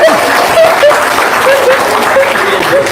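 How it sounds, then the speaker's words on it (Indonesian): A live audience claps in a dense, continuous burst that is loud and close, with a faint thread of voices and chuckling underneath. "Tepuk tangan."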